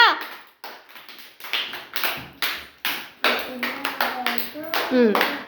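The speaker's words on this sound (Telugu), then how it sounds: "క్లాప్స్ కొట్టండి. గట్టిగా కొట్టండి." Children clap their hands in a quick, rhythmic run of close claps at a steady beat, with voices talking over and between them.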